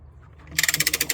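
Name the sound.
cranking a ratchet to lift a skid steer track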